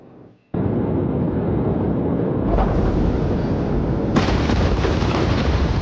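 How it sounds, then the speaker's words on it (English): After a quiet moment, fireworks give way to a sudden massive port explosion in the Texas City disaster, erupting into a loud, sustained roar with further surges, dense and overwhelming. "what appear to be fireworks, going off before the massive explosion"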